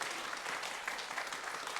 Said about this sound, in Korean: 두 분 다 박수로 환영합니다.